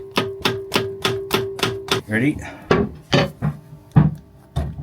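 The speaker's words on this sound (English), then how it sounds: "punching a hole in the filter itself to drain" Metal punch hammered into a boat engine's oil filter to drain it: a quick run of sharp, evenly spaced metallic taps, then a brief voice and a few heavier, slower knocks nearby.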